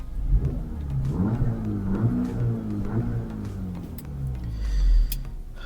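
A 2024 VW Polo GTI engine revving in sport mode, heard from inside the car as a muffled rising and falling drone with light ticking, swelling louder toward the end.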